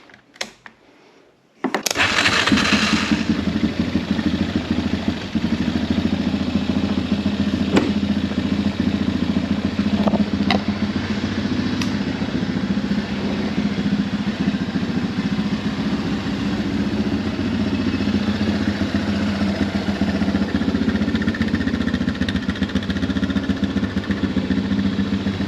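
A 2001 Honda Recon ATV engine cranks and fires after about two seconds of near silence, then settles into a steady, loud, close-up idle with a constant low rumble and light mechanical clatter.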